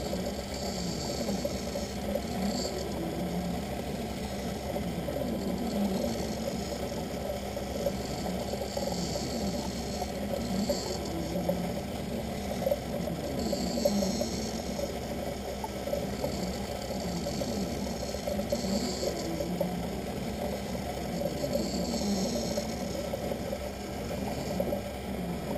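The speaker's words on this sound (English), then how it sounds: "It's just putting the bevel onto the lens now." An optical lens edger bevels a Transitions eyeglass lens for Ray-Ban 5301 frames, giving a steady, continuous mechanical whir and grinding hum with water-like swishing that goes on without a break and without talk.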